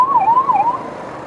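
Ambulance siren wailing in a rapid rise-and-fall pattern, loud and close for two cycles before dropping to a lower, steady level, with no talk.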